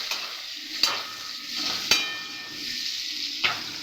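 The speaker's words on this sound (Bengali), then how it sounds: "পেঁয়াজটা ভেজে নিচ্ছি ভালো" Onions sizzle in a pan under a constant frying hiss, broken by three sharp clicks of a spatula knocking the pan, close by with no voices.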